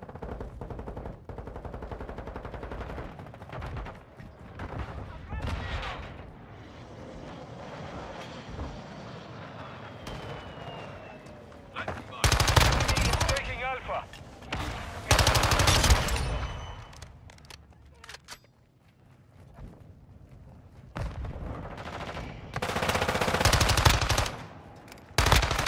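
Call of Duty Modern Warfare II ground-war gunfire: bursts of automatic fire crack out in loud clusters over a steady aircraft drone, with quieter gaps between volleys and a final burst at the end.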